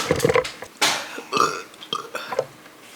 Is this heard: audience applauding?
no